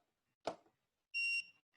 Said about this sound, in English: Beep lets it make a sound when the flash is recycled